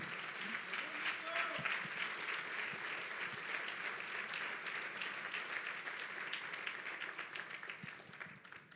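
Church congregation applauding during a sermon, a sustained wash of clapping at moderate distance, with a voice faintly audible beneath it and the sound tapering near the end.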